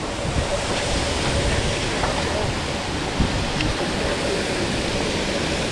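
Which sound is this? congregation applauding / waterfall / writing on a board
waterfall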